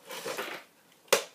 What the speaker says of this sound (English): 6 snips for the blaster.